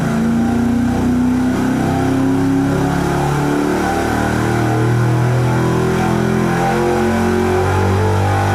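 A stock 325 cubic inch OEM V8 revs hard on an engine dyno, a loud, sustained roar that climbs and holds steady with shifting pitch, with no talk over it.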